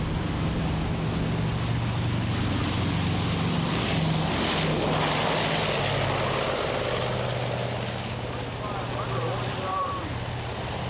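Propeller engines of a Lockheed C-121A Constellation, about 8,000 horsepower, run as a steady, loud, close drone with low hum and broad roar, unchanging throughout.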